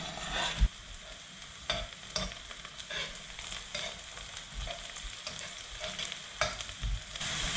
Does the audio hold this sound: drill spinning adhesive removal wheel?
no